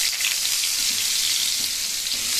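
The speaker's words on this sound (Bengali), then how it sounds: "ডুমো করে কেটে রাখা আলুগুলো ভেজে নেব" Diced potatoes fry in hot oil seasoned with cumin and bay leaf, giving a loud, continuous bright sizzle close by with faint clinks beneath and no talk.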